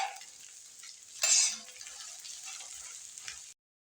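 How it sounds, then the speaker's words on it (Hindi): Turmeric, pomegranate seed, red chili and dry coriander get stirred into a fish curry in a pan with a soft steady sizzle, scraping and one brief louder burst near the start, then abrupt silence. "ये मैं सब इकट्ठे ही इसमें डाल रही हूँ और अब मैं इनको मिक्स करूँगी।"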